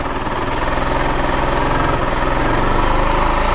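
Suzuki Van Van 125 engine running after twenty years unused, a loud close steady rattling putter that grows gradually stronger as the throttle rises, with no talking.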